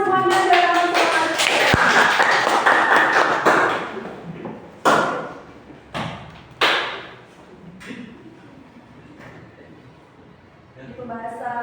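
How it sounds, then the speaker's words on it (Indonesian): Classroom clapping from a vocational high school class, a burst of hand claps filling the room for a few seconds, then scattered sharp taps and thumps under chatter and a teacher's voice. "Tepuk tangan semuanya biar tambah semangat"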